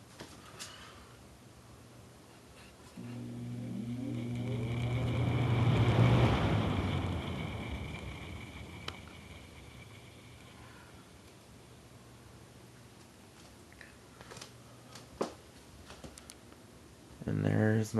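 A 20-inch three-speed Galaxy box fan with a thermostat and Sears badge whirs up from rest, its motor hum and airy rush swelling and then settling into a steady running drone.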